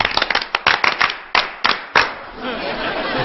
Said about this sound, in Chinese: 刚才大家热烈的掌声